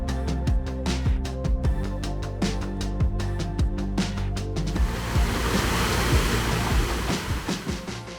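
Roaring waterfall at an iconic Oregon spot along the Mount Hood to Columbia River Gorge hikes, a steady loud broadband rush of falling water that swells and stays constant throughout, with no talking over it.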